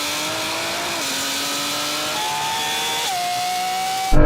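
A drag race car accelerates hard from close by, its engine pitch climbing in steady steps with distinct gear shifts, ending in a sudden loud burst.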